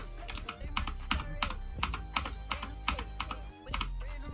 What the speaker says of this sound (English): Okay, now I'm gonna be doing the sound test. They're just blue switches